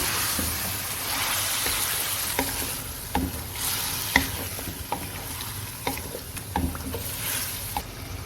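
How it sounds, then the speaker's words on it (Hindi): Chicken pieces are stirred and mixed in a hot, sizzling pan, with a constant frying hiss broken by intermittent scraping and clacking of the spoon against the pan at close range. "अब हम इसमें चिकन ऐड करेंगे। अब हम इसे अच्छी तरह से मिक्स करेंगे।"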